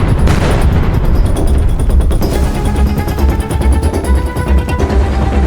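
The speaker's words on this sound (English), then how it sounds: "A volley of explosions filled the air." Dense, continuous battlefield barrage of explosions and gunfire, with booms and rapid shots overlapping loudly and steadily throughout, no voices.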